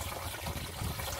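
Water gushing steadily into a drum, a continuous loud rushing and splashing with no speech over it.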